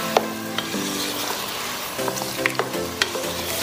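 Pork liver sizzles in a hot pan as it is stirred with a cornstarch-and-water slurry, a steady frying hiss broken by light scrapes and clicks of the utensil, with no talking.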